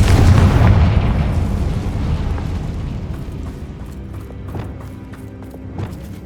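A Confringo spell explosion in the video game Hogwarts Legacy, one deep booming blast at the start that rumbles and fades over several seconds, followed by faint debris clicks and crackles.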